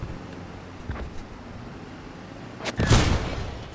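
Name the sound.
anti-tank weapon firing at tank, video game Squad 44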